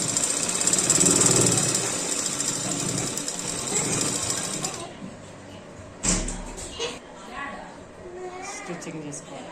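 A sewing machine stitching a seam on pattu langa silk fabric runs steadily at close range for about five seconds, then stops, leaving quieter handling sounds with a voice in the background.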